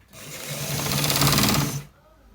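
A sewing machine runs in one continuous burst of rapid stitching through a shirt collar, close and loud, ramping up and then stopping abruptly.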